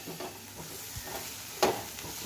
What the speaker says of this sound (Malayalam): അപ്പോൾ ഇനി ഈ മസാലകൾ നല്ലോണം ഒന്ന് ഇളക്കി കൊടുക്കുക